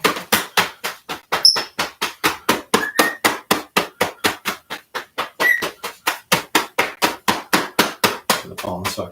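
Brisk, even hand pats slap against the body during a qigong patting exercise, dozens of sharp claps in a steady rhythm of roughly four per second, close and clear with no talking.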